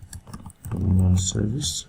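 A few quick computer keyboard clicks tap close by during Photoshop flyer design, then a voice speaks over and after the typing.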